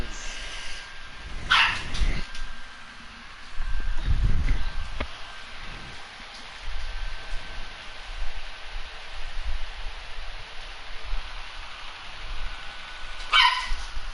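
A dog barks a few times in short bursts, the clearest near the start and another around the middle, over steady background noise during video game play.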